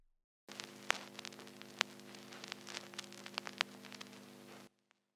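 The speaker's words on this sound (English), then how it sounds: "vinyl noises," Vinyl crackle sample from a synthesizer's sampler, a steady bed of low hum and hiss peppered with irregular pops and clicks for about four seconds, quiet and alone before cutting off.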